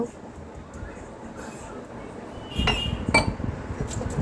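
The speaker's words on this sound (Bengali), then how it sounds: "তো আমি পোস্তটা এভাবে আমি বেটে নিচ্ছি।" Poppy seeds being ground into a smooth paste for aloo posto, giving close, scraping and clinking sounds of stone or utensil that grow louder partway through.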